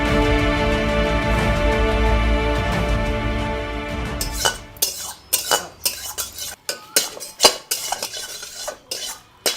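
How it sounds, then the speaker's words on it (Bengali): Pots and cooking utensils clatter loudly during cooking, with a steady scraping and stirring sound giving way to a burst of sharp, irregular metallic clanks and clinks close by. "আচ্ছা এত কি শব্দ করে এতে খেটার মেটার এত জোরে রান্না করে নাকি?"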